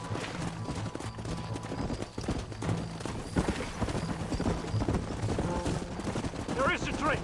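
Video game horses gallop with quick, dense clip-clop hoofbeats, mixed with gunfire bursts and occasional whinnies over a busy, loud action soundtrack, while shouting voices come and go.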